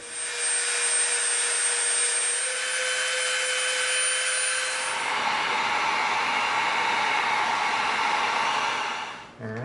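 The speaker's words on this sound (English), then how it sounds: "Let's go around the edges with the Dremel." Handheld Dremel rotary tool grinding around the edges of EVA foam for a grenade launcher prop, a steady close high-pitched whine that shifts to a rougher, broader grinding tone midway before cutting off.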